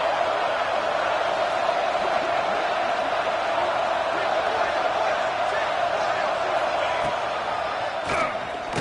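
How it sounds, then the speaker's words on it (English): A large stadium crowd at an Oregon vs Notre Dame football game roars steadily in a dense, continuous wash of noise that holds at a loud level throughout. "And here comes the noise. This crowd is trying to inspire this defense"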